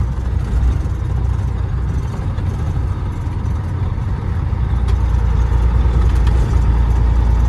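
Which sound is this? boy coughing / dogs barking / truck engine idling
truck engine idling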